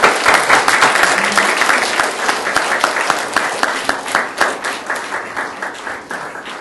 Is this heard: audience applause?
yes